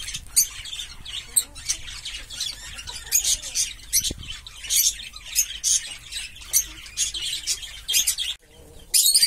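Parrots and chickens eating pumpkin on a farm fill the air with continuous squawks and chirps, a dense, busy chorus of harsh calls close to the listener.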